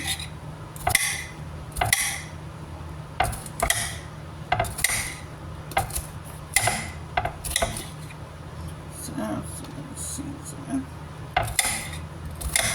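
A knife slicing bitter melon very thin, giving a regular series of crisp cuts against a board with soft scraping between strokes and a faint steady hum underneath.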